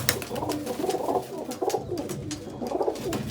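Pigeons coo in soft, repeated rolling phrases close by, a low throaty murmur rising and falling over about three seconds, with no talking.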